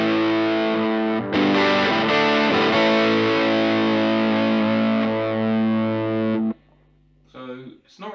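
Electric guitar through a Danelectro FAB overdrive pedal set halfway, a loud gritty sustained chord strummed and ringing for several seconds, then cut off, followed by someone speaking briefly.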